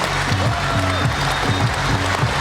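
Sustained audience applause fills a charity concert hall in the town of Toktogul, steady and dense from start to finish, with a faint tonal voice or music line running underneath.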